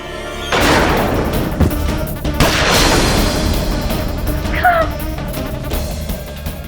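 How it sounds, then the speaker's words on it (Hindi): Gunfire in a Hindi TV courtroom drama: loud, sustained bursts of shots with booming impacts running for several seconds, with brief shouting between them. "बस गोली चलाओ, गोली।"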